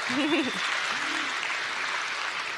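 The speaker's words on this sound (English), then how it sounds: "Let's have a round of applause for Troy." Crowd applause at a political rally for a provincial candidate in Sudbury, a steady, moderately loud wash of clapping that carries through the clip, with a voice briefly speaking over it near the start.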